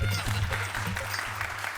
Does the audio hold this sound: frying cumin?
no